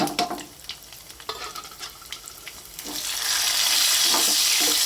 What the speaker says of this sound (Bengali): তারপরে আমি পেঁয়াজ আর রসুন তেলের মধ্যে দিয়ে দেব